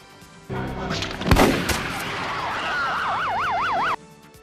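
Gunfire in a police action film sounds as sharp, loud shots over a dense background, and a wailing police siren rises and warbles through the latter half before everything cuts off.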